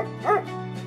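A single dog bark or yip, a short arched burst standing out over a steady humming background, set against a documentary on First World War messenger dogs.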